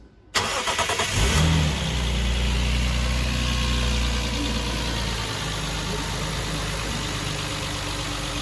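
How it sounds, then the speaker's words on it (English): A Lexus IS200 engine with a new pulley and V-belt cranks and catches, then settles into a steady, smooth idle that runs on loudly without squeaks. "now to hear the engine turnover for the very first time with the new pulley system."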